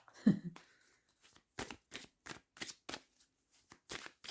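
Tarot cards being shuffled by hand, a series of short crisp riffles and flicks with quiet gaps between them, close and fairly soft.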